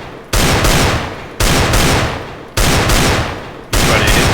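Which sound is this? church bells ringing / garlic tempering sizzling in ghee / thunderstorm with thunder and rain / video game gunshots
video game gunshots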